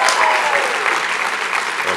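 A big student audience at a conservative conference claps loudly and densely throughout, a steady wash of applause with a few voices mixed in.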